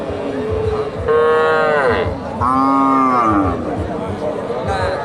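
A young crossbred cow calf moos loudly twice, long wavering calls close by, with faint background chatter at a cattle market in Bogura.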